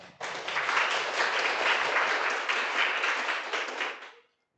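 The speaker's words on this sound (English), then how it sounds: "So please join me in a round of applause to welcome Dr. Ahmed." An audience at a talk on democracy and authoritarianism breaks into steady, dense applause welcoming a speaker, sustained evenly for about four seconds before stopping abruptly.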